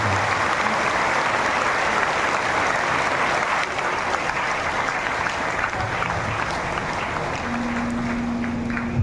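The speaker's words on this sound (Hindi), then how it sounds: "एक बार सभी एक दूसरे के उत्साहवर्धन में तालियों की बजाएं" Dense, steady applause from a large audience at a religious gathering in Jagdalpur, Bastar, with many hands clapping continuously and evenly at close range for the whole stretch.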